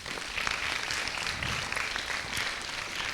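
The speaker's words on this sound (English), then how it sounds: "A round of applause, please, for both teams on stage." An audience applauding two high school debate teams on stage, a dense, even wash of clapping from many hands that holds steady throughout, fairly loud and without a break.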